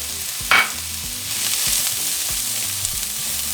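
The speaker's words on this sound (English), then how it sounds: "we're going to cook our onions for 5 minutes or until our onions are translucent" Onions frying in hot olive oil give off a steady, close sizzle with a sharp clatter near the start, then low scraping and stirring knocks beneath the hiss.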